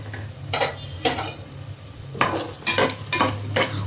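Chilli, coriander and garam masala powders frying together in a pan for hotel-style tomato bath, with a low sizzle beneath several distinct scraping stir strokes, loud and close.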